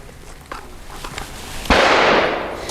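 A single shot from a Grand Power P1 Ultra pistol firing a subsonic round, a sharp close crack after a few faint ticks and taps, with a brief decaying ring afterward.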